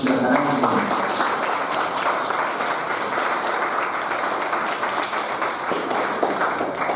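Sustained audience applause welcomes a guest speaker, Dr. Gonzalo Gamio, at a conference, a dense steady roar of many hands clapping close and loud throughout.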